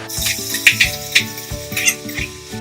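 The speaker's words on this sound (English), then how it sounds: "we're just going to whack in all the onions" Onions fry in a pot for German lentil soup, a close crackling sizzle punctuated by repeated clinks and scrapes of stirring against the pot.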